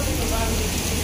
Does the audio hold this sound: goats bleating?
no